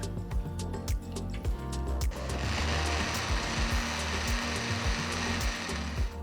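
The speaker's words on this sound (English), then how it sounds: "blend everything together till you get a nice thick milkshake" A kitchen blender whirs loudly and steadily, blending dry fruits, nuts, cardamom powder and milk into a thick milkshake, preceded by a couple of seconds of clunking and rattling as it starts.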